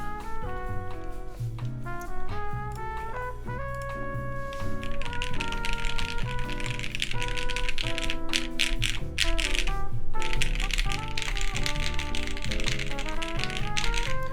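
A mechanical keyboard with Cherry MX Black switches and GMK keycaps being typed on, dense clacking keystrokes under melodic background music, growing busier and louder toward the end.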